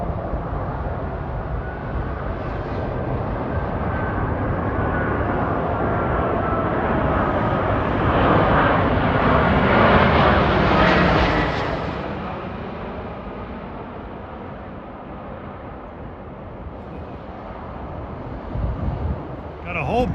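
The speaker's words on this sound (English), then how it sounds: "Here comes Qatar Airways from Doha, Qatar to JFK with an Airbus 350." A Qatar Airways Airbus A350 jet passes overhead on approach near Rosedale station, a loud broadband engine roar that swells to a peak midway and then fades as it moves away, with wind noise on the microphone.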